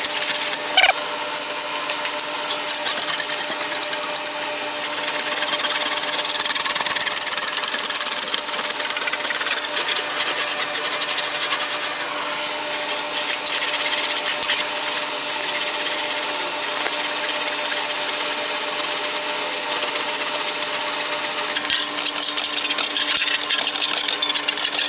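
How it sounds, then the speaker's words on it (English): A metal fender panel is rolled on an English wheel by hand, giving a continuous scraping, rumbling metallic drone that holds steady for the whole stretch and swells near the end. "Let's smooth this out on the English wheel."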